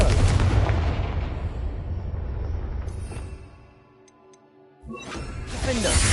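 A Confringo fire spell bursts in Hogwarts Legacy, a loud booming blast that rumbles away into near quiet with faint ticking before a second sharp burst sweeps back in close.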